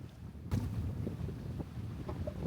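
Gusty wind buffets the microphone in low rumbling bursts, with faint sloshing and creaking as a boat moves through the water at sea off Sagres, Portugal.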